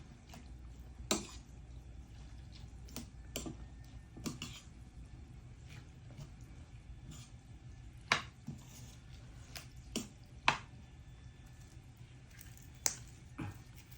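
Rice noodles being stirred together with fish sauce, giving soft wet squishes and scattered sharp clicks of utensils against a bowl at close range, with no talking.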